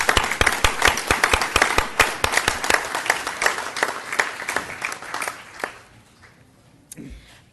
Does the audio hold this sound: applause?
yes